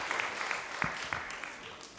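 Applause from the audience at an elementary school musical after a student's performance, a steady, fairly quiet patter of clapping with a few sharper claps standing out.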